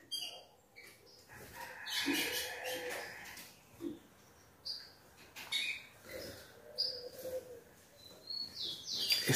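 A caged canary and a female tico-tico chirp close by in short, bright bursts and trills, scattered irregularly with brief pauses between calls and no talking.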